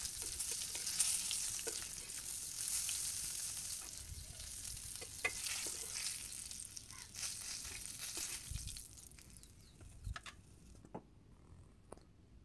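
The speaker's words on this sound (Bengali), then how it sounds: "এখন আমি সবগুলো মাছই ভেজে নেব" Pangas fish fries in oil in a wok in a village kitchen on a rainy day, a dense bright sizzle with occasional clicks and shifting pieces, close by, thinning out toward the end.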